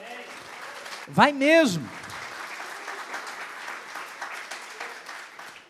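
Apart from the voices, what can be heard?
church congregation applause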